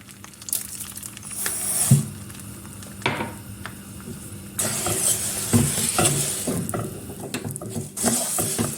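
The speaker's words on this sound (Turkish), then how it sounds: "Güzelce karıştırarak bir kısmının kızarmasını sağlıyorum." Orzo pasta is stirred and toasted in melted butter in a pan, with a soft sizzle under repeated scraping and clattering strokes of the spoon against the pan, close and uneven, with no talking.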